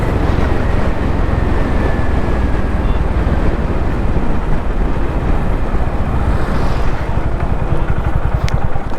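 A Honda CB350 Highness motorcycle is ridden on a road at night, with loud, constant engine drone and heavy wind rush close to the rider throughout.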